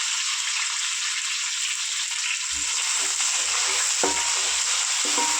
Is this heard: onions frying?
yes